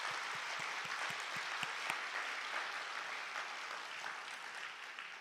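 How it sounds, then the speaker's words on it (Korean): A church congregation gives a round of applause for its choir at a New Year's Eve service, with steady, fairly faint clapping that holds for the whole stretch and a few sharper claps standing out early on. "우리 성가대 다시 한번 뜨겁게 박수 한번 해주세요"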